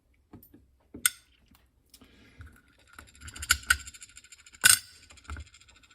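Small metal wafers pulled one by one from a disassembled Bramah lock, giving sparse, close clicks and light clinks with a few sharper metallic taps, alone with no voices.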